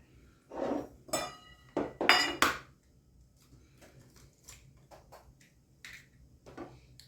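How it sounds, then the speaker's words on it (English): Cheesecake batter with sugar and egg being mixed in a bowl, giving several close clinks and scrapes of a utensil against the dish, louder early and then quieter and sparser. "We're just mixing all this together"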